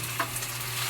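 Garlic sautéing in a pan, giving a brief steady sizzle with a faint stirring scrape.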